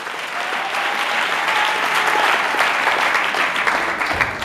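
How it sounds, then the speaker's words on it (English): A church congregation in Durban claps together during a service, a loud, sustained burst of many hands that stays full and even throughout. "no, you can clap"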